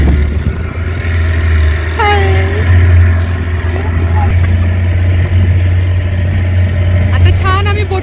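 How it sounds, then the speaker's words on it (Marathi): A motorboat engine drones steadily on a boating outing at Bhandardara, a strong low hum running throughout while people chatter and exclaim over it. "आता छान आम्ही बोटिंग मध्ये जातोय मस्त."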